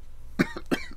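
Two short, sharp coughs in quick succession, close and fairly loud, each followed by a smaller trailing catch in the throat.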